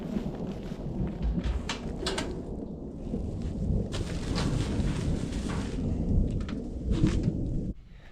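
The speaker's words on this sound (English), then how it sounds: "You can hear there's a thunderstorm really close." A thunderstorm close by over a mountain, with long rolling thunder rumbling under steady rain for several seconds before cutting off abruptly, heard alone without talk.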